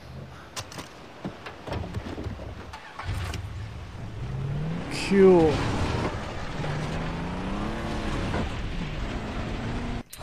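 A car in Far Cry 3 starts up and pulls away, its engine revving and rising in pitch as it drives off, heard under a man's casual speech.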